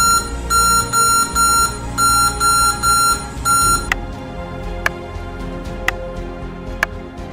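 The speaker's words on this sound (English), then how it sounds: "There will be beeps and nothing on the screen" An HP OmniBook X laptop with its RAM removed gives error beeps: first a rapid series of short tone bursts, then single sharp beeps spaced about a second apart over a steady background hum.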